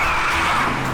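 A car skids with failed brakes, a loud sustained tire screech over engine roar, close and continuous for about a second.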